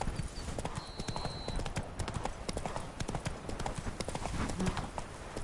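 A horse gallops in The Witcher 3: Wild Hunt, a rapid, steady clip-clop of hooves that is close and continuous, with light game ambience underneath.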